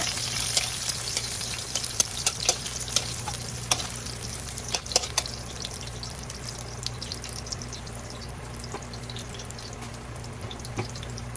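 Ginger frying in a pan, a steady close sizzle with scattered crackles and pops, plus faint stirring and clinking running continuously throughout.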